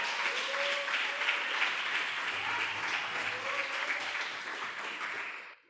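A church congregation claps together in praise during a sermon, a sustained even roar of many hands that holds steady and then cuts off abruptly at the end.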